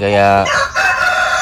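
A rooster crows once on a farm, loud and close, a harsh drawn-out call that breaks into a ragged tail; a short spoken word overlaps near the start.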